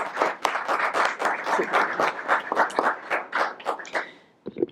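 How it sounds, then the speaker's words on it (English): Audience clapping as a woman from the Alpha Sigma Omega chapter comes forward, a loud burst of individual claps close by that thins out and stops near the end. "Y'all can give a round of applause as she comes."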